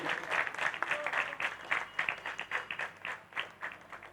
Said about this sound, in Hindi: दर्शकों, एक बार जोरदार ताली हमारे इन सभी कलाकारों के लिए।